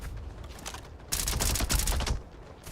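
Rapid gunfire from an overpowered gun in the video game Starfield, a quick burst of sharp shots that swells suddenly after a quieter clattering lead-in, then cuts off, with no talking.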